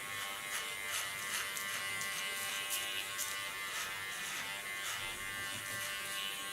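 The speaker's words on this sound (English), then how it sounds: "leaning with the tip and the sides of the clipper blade on the skin" An electric hair clipper trims the contour of an ultra-short haircut, its blade tip and sides pressed to the skin, giving a steady, fairly quiet buzz with small repeated strokes and no voices.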